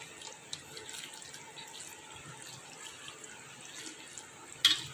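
Water pours steadily from a tap into a container while making curd rice, a soft continuous splashing with a brief louder clink near the end.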